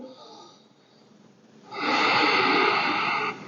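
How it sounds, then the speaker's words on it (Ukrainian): A person breathes slowly and audibly at close range, a quiet soft breath followed by a longer, louder airy exhale through the nose with a snorting edge. "Слухаємо дихання."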